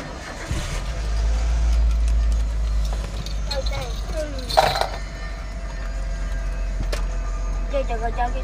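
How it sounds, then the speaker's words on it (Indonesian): Car engine idling while warming up before a school run, a steady low rumble running throughout, with household noises and voices of people talking nearby. "Oke, kita panasi dulu mobil"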